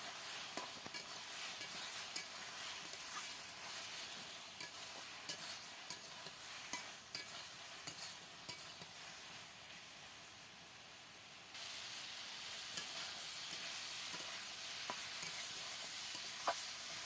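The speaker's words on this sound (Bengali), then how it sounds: "এবার আবার ভালো করে একটু নেড়ে নেব।" A bottle gourd curry is stirred in a pan with a little added water, giving a steady sizzle and hiss with soft scraping strokes throughout, which grows slightly louder near the end.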